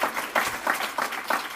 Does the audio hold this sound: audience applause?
yes